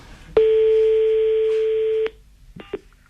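A steady telephone dial tone sounds for about two seconds during a call, then cuts off, followed by a couple of brief tone beeps; loud and alone, with no talk.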